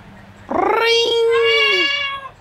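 A parrot imitates a cat's meow, delivering one long, close, drawn-out tonal mew that rises sharply, holds, and then trails off over about two seconds.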